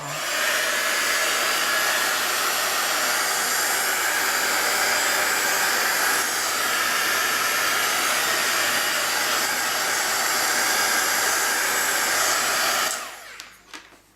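A hair dryer blows steadily on watercolour paint, a loud continuous close-up whoosh that holds for about thirteen seconds before switching off and fading into quiet.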